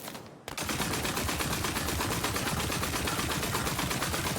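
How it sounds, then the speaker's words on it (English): A magic missile weapon in the video game Tiny Tina's Wonderlands fires after a short lead-in, a rapid, dense, continuous stream of loud shots with no gaps, heard alone without talk. "Firing magic missiles more frequently as the weapon heat rises."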